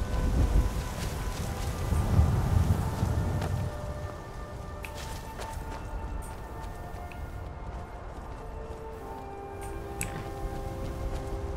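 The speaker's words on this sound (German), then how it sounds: "Oh, jetzt wird's windig." Wind blowing through the Skyrim video game world, a steady broadband rush that swells for the first few seconds and then settles into a softer, continuous gusting with faint scattered ticks, no voices.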